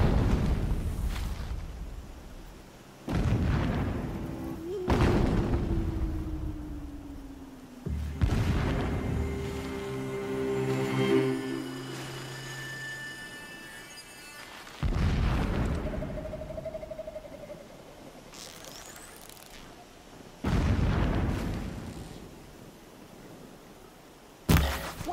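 Deep booms and blasts from Horizon Zero Dawn combat sound in repeated bursts spaced a few seconds apart, loud and close, with some tonal sweeps and ringing between the impacts.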